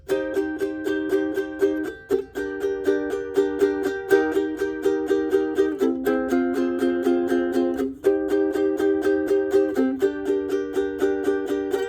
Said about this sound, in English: It is just 8 down strums really fast.